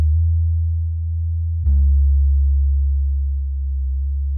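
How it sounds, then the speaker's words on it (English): A soft, smooth synth bass in an ambient R&B production, a sustained low sine-like tone that shifts pitch partway through with a brief bright attack, then holds steady, loud and alone. "I want to link the pitch of that bass to that pitch automation from the chords"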